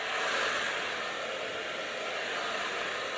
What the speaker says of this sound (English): keeping the brush with the blow dryer